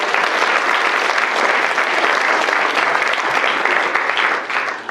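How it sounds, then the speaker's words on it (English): An audience at a hotel celebration claps for the hotel management staff, a dense, sustained round of applause from a full room that holds steady throughout and tapers slightly at the end. "And give them all a big clap."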